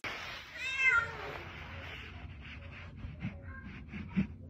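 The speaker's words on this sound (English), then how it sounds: "What's my favorite grumpy kitty doing?" A grumpy pet cat lets out a drawn-out, complaining meow near the microphone, followed by softer scattered grumbles and small snorts in a quiet room.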